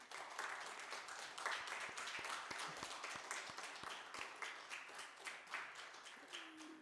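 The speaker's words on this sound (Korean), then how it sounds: "우리 박수로 환영하겠습니다." A church congregation at a revival meeting claps in welcome, a sustained, moderately distant patter of many hands with a few sharper individual claps standing out.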